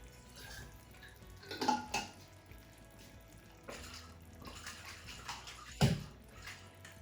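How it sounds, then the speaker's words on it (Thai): Water is poured and splashed into a pan while cooking butter chicken shrimp, soft trickling and sloshing with a few louder splashes, quiet and close with no talking. "ถ้ามันยังมีน้ำข้นๆอย่างนี้เราก็เอาไป ใส่น้ำนะคะ"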